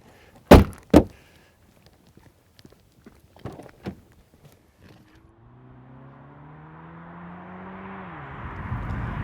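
The hood of a 2017 Ford Mustang EcoBoost slams shut in two loud, close thuds, followed by a few soft knocks and then a low, steadily building mechanical drone.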